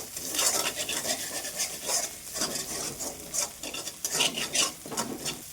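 Spices seasoned with salt and turmeric are stirred and sautéed in a pan for a mustard fish dish, giving repeated scraping strokes of a spatula over a steady sizzle, close and moderately loud, with no talking.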